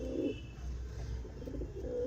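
Pigeons coo in a loft, with low rolling calls repeating at the start and end of a short quiet stretch over a faint background rumble.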